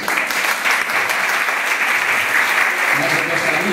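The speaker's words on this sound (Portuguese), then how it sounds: "Palmas para vocês." Applause from the audience in a city council chamber in Olinda, a continuous, fairly loud patter of clapping with a faint voice or murmur mixed in beneath it.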